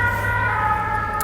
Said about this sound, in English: Sorry if you hear the sirens because I am just outside.